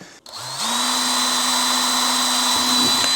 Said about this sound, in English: I need to drill a hole for the cable to come through